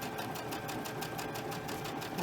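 A sewing machine runs a straight stitch with aqua thread at a 2.5 stitch length, producing a steady, even mechanical whir with fast regular needle pulses, fairly quiet and uninterrupted.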